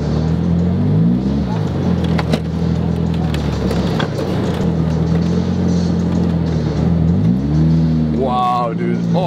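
A light manual street car with a Celica GT engine revs and accelerates, its engine note rising and falling in steady sweeps under ongoing talk from people inside.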